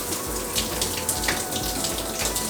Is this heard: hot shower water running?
yes